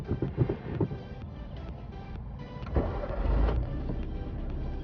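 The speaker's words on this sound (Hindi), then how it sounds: "ये तो चलो भाई स्टार्ट करो गाड़ी को।" A car engine cranks and catches as a learner starts the vehicle, rising to a steady idle rumble nearby with some clicks and handling noises, no talk.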